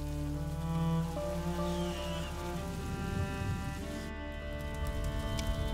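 Rain falling in the video game A Plague Tale: Innocence, a soft continuous patter under a low steady musical drone, with no one speaking.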